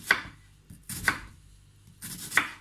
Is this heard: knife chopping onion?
yes